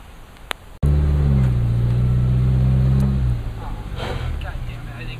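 A Nissan 350Z with a swapped V8 fires up with a sudden loud start and settles into a steady, deep idle that drops lower after a few seconds, with a faint voice underneath.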